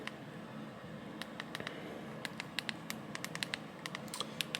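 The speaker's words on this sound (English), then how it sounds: "I do like typing on this keyboard." Fingers tap on the small built-in keyboard of a Zipit Z2 handheld messenger running OpenWRT Linux, a quick run of light, close clicks with brief pauses over a steady low hiss.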